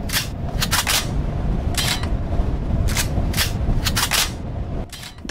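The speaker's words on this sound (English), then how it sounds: "the AK reload SFX is by far my favorite" AK rifle reload effect from a first-person horror shooter game, a series of sharp metallic clicks and clacks, some singly and some in quick pairs, spread over about five seconds against a steady low background hum.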